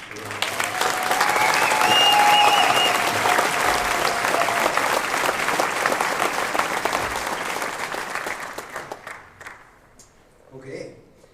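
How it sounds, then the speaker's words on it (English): A banquet crowd gives a round of applause for the hotel staff, dense loud clapping swelling quickly and holding steady before fading out, with a voice at the end. "So let's give them a round of applause."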